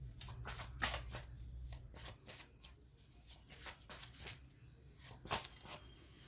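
Tarot cards shuffled by hand in a quiet room, a steady run of quick riffling and flicking bursts over a low background hum, close up and moderately soft, with no talking.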